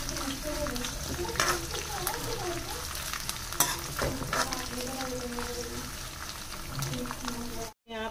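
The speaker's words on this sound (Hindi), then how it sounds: "हरी मिर्च, अच्छे से भून लूंगी।" Green chillies and peanuts roast in a pan while being stirred, producing a steady crackling sizzle with scraping, as a voice talks over it; the sound cuts out briefly near the end.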